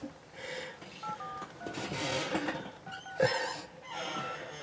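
Telephone keypad tones sound as a number is dialed to call a sheriff, a few short beeps in an irregular sequence, faint against a noisy background hiss.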